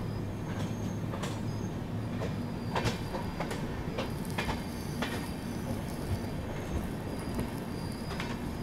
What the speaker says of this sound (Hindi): ये देखो डायरेक्ट फैक्ट्री से मालगाड़ी लोड होके बाहर आ रही है।